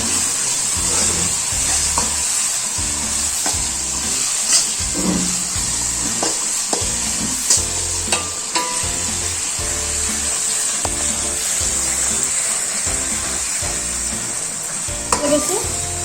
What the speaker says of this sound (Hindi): तो अब हम इसे भूनेंगे दोस्तों, भूनेंगे अच्छी तरह से भून लेंगे।